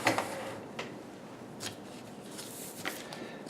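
Silver coins clink and slide as they are stacked. There are several short, light metallic clicks and shuffles at close range, spaced irregularly, and there is no talk.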